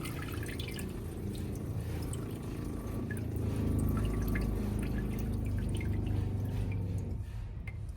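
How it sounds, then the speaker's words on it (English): The water pump of a Winnebago RV runs as a steady low hum while it builds pressure, with faint drips and trickles over it, then the hum drops away near the end. "Water pump, you'll hear it running."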